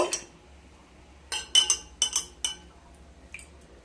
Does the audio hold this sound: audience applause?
no